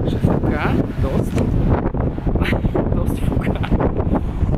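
Strong gusty wind buffets the microphone at Helsinki harbour, a loud continuous rushing and flapping roar with sharp bursts throughout; a voice can be heard speaking under it.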